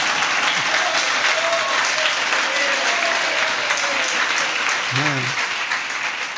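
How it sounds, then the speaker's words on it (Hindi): An audience claps steadily through a spiritual talk, a dense and sustained patter of applause, with someone speaking briefly over it near the end. "हमारे तो ऑनलाइन भी तालियां बजती रहती।"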